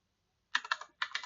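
Keys clatter on a computer keyboard as a command is typed into a Linux terminal: two quick, close bursts of keystrokes separated by a brief pause, with no talking.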